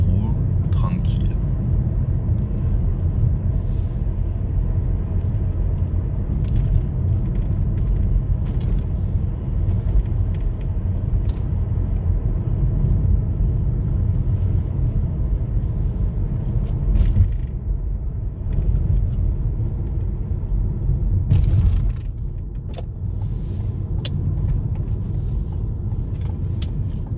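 Steady low road rumble of a Toyota C-HR hybrid cruising at an even pace with gentle acceleration, tire and engine noise constant throughout and a brief dip near the end.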